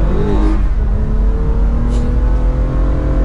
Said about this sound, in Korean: 다시 한번 가속을 해보면